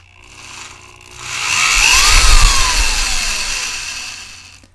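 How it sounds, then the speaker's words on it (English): A hand-turned tap cuts threads into drilled holes for a full-size PC case side window, giving a loud, steady grinding and whirring sound with a low rumble and a rising-then-falling tone, heard alone with no talking. "so I'm just going to drill in with the tap."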